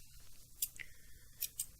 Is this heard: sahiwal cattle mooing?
no